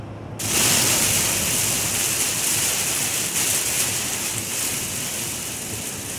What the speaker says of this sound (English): I guess it got a little bit wet and it started to rain